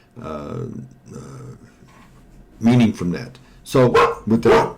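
A pet dog barks several times nearby, loud sharp barks in two bursts after a teacher speaks at the start of a recorded class lesson.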